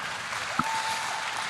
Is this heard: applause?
yes